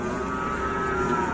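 A six-legged Minang cow at a market gives a loud, sustained low moo with steady harmonic tone lasting over a second, heard up close over a busy background.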